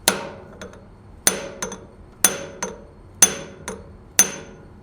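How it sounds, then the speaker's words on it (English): A ball peen hammer drives a big brass drift into a Grizzly G4003 lathe gearbox with sharp metallic strikes, six main blows at roughly one-second intervals, several followed by a lighter tap, close and clear with no talk. "I got the ball peen and that same big brass drift"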